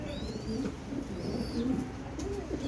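Domestic pigeons cooing in low, throaty, repeated calls close by, with a few thin chirps from other birds over steady background noise.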